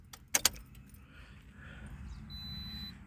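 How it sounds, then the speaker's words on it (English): Keys jangle sharply as the ignition key of a 2013 Toyota Corolla is turned two clicks to the on position, followed by a faint steady electronic hum with the engine off. "You want to do 2 clicks to the on position."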